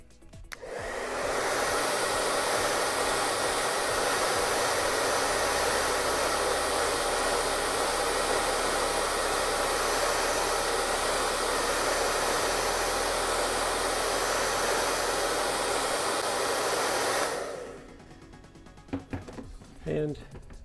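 A hair dryer on high heat blows steadily onto a costume helmet, a loud, continuous broadband whoosh that runs unbroken for about sixteen seconds before switching off, leaving a few faint clicks and handling sounds.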